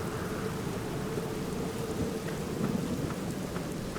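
Steady rain and low thunder rumbling from The Black Mirror video game, set by a gloomy sanatorium graveyard, with a continuous wash of rainfall and a swelling roll of thunder near the end, no voices.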